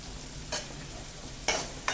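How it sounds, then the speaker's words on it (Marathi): Onion and carrot sautéing in a pan for lemon coriander soup, a steady low sizzle with a few sharp stirring scrapes standing out, close and alone without talk. "हा कांदा परतून घेऊया।"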